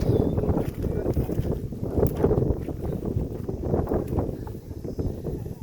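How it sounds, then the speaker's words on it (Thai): Strong wind roars across a mountain summit about 1,700 m high on a forest trail in Thailand, buffeting the microphone in continuous heavy gusts. "ลมแรงมาก"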